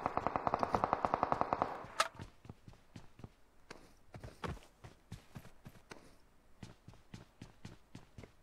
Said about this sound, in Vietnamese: tiếng súng kìa